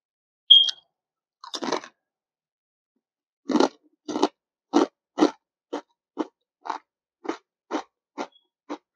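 Someone bites into a curry-flavored ridged potato chip, then chews with a run of sharp, close crunches. About a dozen distinct crackling bites come at a fairly regular pace against silence, and no one speaks.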